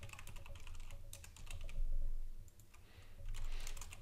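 Typing on a computer keyboard while naming a new API key, bursts of rapid close key clicks with brief pauses between, no talk.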